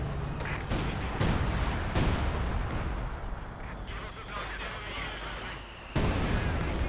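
Artillery shells and gunfire crash through a Company of Heroes 2 battle, with repeated heavy booms over a constant rumble of combat and a commentator talking throughout.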